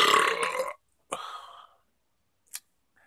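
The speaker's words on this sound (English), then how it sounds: "I can freaking just belch a good one" A loud, deep burp from a man drinking beer, one long rough belch followed by a shorter one and a small click, each separated by silence.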